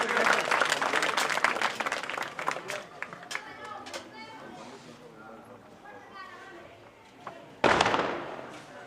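Applause from an audience at a Prajapati community student award ceremony in Bidasar tehsil: a burst of many hands clapping that thins into scattered claps under talk, then a second sharp round of clapping near the end.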